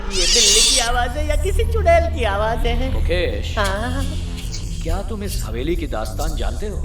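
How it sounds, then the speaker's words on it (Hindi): A cat meows in a spooky scene set in an old haunted mansion, the cry sounding near and clear over heavy speech and background music. "ये बिल्ली की आवाज है या किसी चुड़ैल की आवाज है?"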